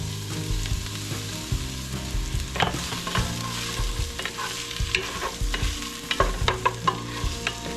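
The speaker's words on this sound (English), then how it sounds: "First thing I'm going to do is cook the onions and bell pepper. Just putting a little bit of oil in the pan" Onions and bell pepper fry in oil in a pan over medium-high heat, a steady close sizzle broken by scraping stirs and clicking utensil knocks, with no voices.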